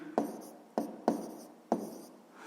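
A pen writing numbers on paper, four short scratchy strokes close up with brief pauses between them and no talking.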